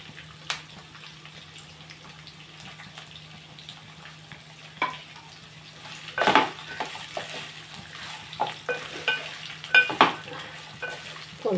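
Cumin seeds and garlic frying and being stirred in a pan for a tempering, with a steady low sizzle and occasional spoon scrapes and clinks that grow busier toward the end.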